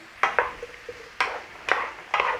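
Chorizo and new potatoes sizzle in a hot pan, broken by several sharp stirring scrapes and clatters of a utensil against the metal, close and fairly loud with no talking.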